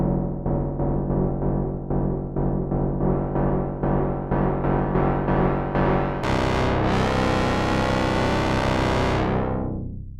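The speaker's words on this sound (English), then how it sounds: "And then we've got sync and cross mod." A Behringer MonoPoly analog synthesizer plays with oscillator sync and cross modulation: a rapid series of buzzy, harsh repeated notes, then a sustained tone with a sweeping, rising and falling sync timbre, loud and without talk.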